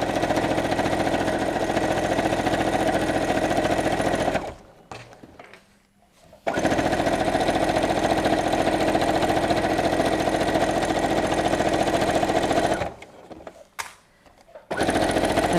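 A sewing machine stitching a quarter-inch seam through fabric runs in a loud, steady mechanical buzz, pausing briefly twice before starting again; no talk.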